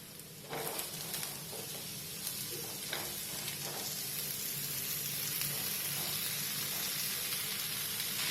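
Chopped bitter gourd hits hot oil in a pan, bringing a sudden, steady hiss of sizzling that stays loud and close, with a few soft clinks and stirring scrapes over it.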